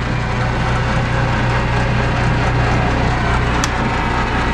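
A machine performing a threading operation at 240 RPM gives a steady, loud mechanical whir with a constant low hum and grinding texture, running alone without talk.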